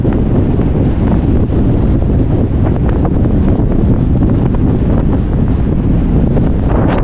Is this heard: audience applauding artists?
no